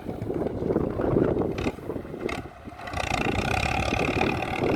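A heavy diesel bulldozer engine rumbles and strains close by while pushing soil to build a road, dipping briefly in loudness before roaring steadily again.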